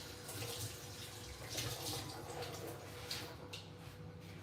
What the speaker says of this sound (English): I was just cleaning the blender. This part, don't immerse it in water.